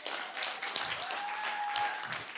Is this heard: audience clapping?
yes